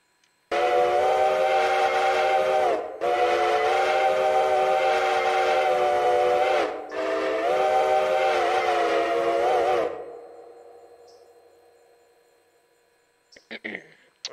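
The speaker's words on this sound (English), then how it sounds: "Uinta 5 chime?" In the Railroader video game, a Uinta five-chime steam whistle blows three long, loud blasts in a row, each with a gliding pitch at its release, before trailing off into a fading hiss and a few faint clicks.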